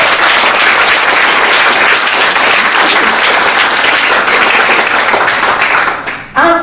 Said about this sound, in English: So a big round of applause now.